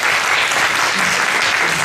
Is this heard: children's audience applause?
yes